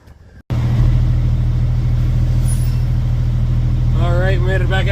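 A heavily loaded pickup truck towing a tractor on a trailer rumbles steadily along a main road, its engine droning loud and constant, with a person talking over it near the end.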